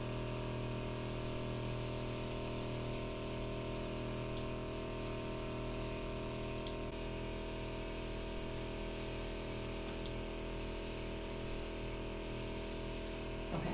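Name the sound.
airbrush spraying foundation makeup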